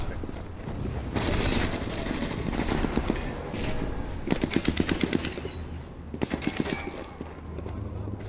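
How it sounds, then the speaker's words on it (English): Repeated bursts of rapid automatic gunfire in the video game Sniper Elite 4 crackle from a short distance, coming in several volleys over a steady background. "I hear the gunshots"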